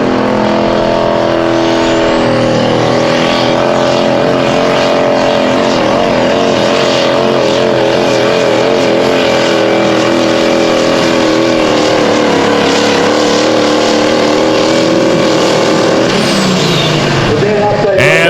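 Ford Pro Stock diesel pulling truck engine roaring loud and close at a pulling event, a sustained heavy drone with shifting pitch over the full run and a voice commentating over it.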